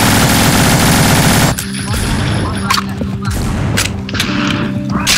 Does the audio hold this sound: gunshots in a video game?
yes